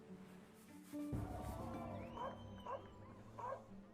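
Dogs bark and yip in a dog park in a video game, a few sharp barks after a second in, repeated in short bursts over a steady background.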